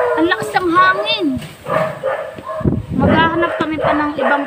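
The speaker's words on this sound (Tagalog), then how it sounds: "Ang ingay ng aso." A dog barks and yips repeatedly at a reptile park on a windy, drizzly day, sharp bursts at fairly close range with people talking in between.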